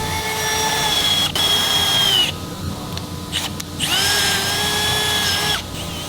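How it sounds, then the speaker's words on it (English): A power drill with a 5 millimeter bit whines at high speed in two long bursts, drilling holes, pausing and spinning down briefly between them, close and loud. "That's a 5 millimeter drill bit for our M6x1 set screws"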